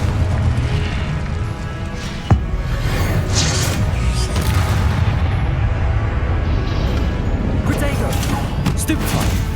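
Booming Confringo blasting spells fire in Hogwarts Legacy, with one sharp burst standing out amid a dense, continuous wash of loud combat effects and game noise.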